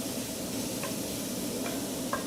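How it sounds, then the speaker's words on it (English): Bacon rendering its fat in a hot pan gives a steady, close, even sizzle with a few faint clicks and taps over it. No one speaks. "So we're going to render out the fat in this bacon, and we're just going to let it start to cook down."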